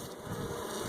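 Honey bees buzz steadily at a hive feeder, a dense continuous drone of many wings close by with no voices.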